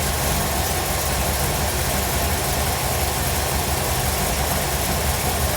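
A carbureted engine idles steadily after its throttle stop is set, a constant close mechanical drone with a low rumble and no pauses throughout.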